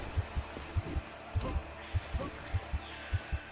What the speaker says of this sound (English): That heartbeat, man, is doing me dirty.